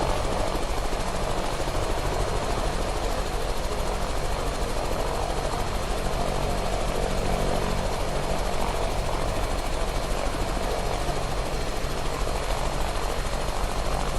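Helicopter turbine and rotor running while parked on the ground in a VR flight simulator, a steady broadband whine and rumble held at even loudness throughout with no talk.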